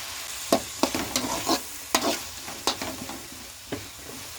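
Tomato and onion frying with garlic paste, a continuous sizzle punctuated by regular clacks and scrapes of a spoon stirring in the pan, moderately close.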